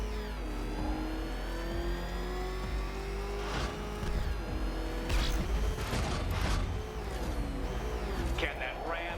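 A ramshackle car engine revs in Batman: Arkham Knight, a steady mid-pitched drone that rises and swells under frequent talk and game effects.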